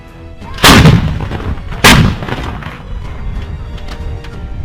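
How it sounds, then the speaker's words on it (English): Two powerful booms from M777 howitzers firing in eastern Ukraine, about a second apart, each blast followed by a rolling echo and a lingering rumble outdoors. "M777 howitzers of the Ukrainian 81st Airmobile Brigade pounding Russian equipment in the country's eastern region"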